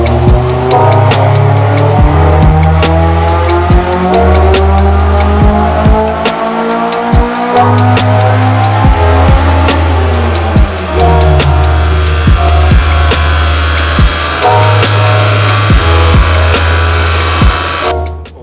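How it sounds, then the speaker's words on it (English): A tuned car's engine revs hard and steadily on a dyno, loud and close, with rising and falling harmonic sweeps as it climbs through the gears over about eighteen seconds. "So but we'll go ahead, do a dyno run and see what it shows us."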